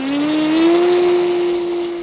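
Electric RC P-47 Thunderbolt model plane on 6S power passes with a loud, steady high-pitched motor whine whose pitch rises slightly, alone and close.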